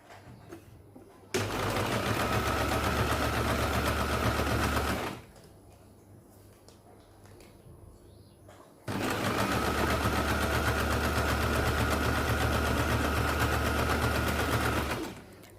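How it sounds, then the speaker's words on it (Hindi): A sewing machine stitches a newborn baby pant in two long continuous runs, a fast steady mechanical whirring rattle, close and loud, with a quiet pause between bursts. "तो पहले यहाँ पे सिलाई लगा लेते हैं"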